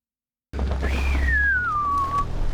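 A single clear human whistle, rising then gliding slowly downward, close and alone over a low background hum after a brief silence.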